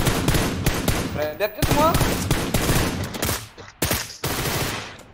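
Rapid bursts of automatic gunfire crackle through a PUBG Lite battle royale firefight, loud and close with short pauses between volleys, while players talk over the shooting.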